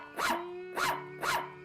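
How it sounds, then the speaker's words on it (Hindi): A cartoon dog barks loudly three times in a steady rhythm, each bark sharp and close, standing alone with no talk over it. "मोटे का कुत्ता बहुत जोर से भौंकता है रे"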